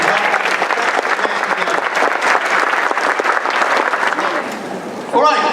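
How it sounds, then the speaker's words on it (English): Sustained applause from a civic event audience honouring a mayor and city staff fills the hall with loud, dense clapping that fades near the end as a voice begins. "Let's give another round of applause to Mayor Greg Newton and the city staff"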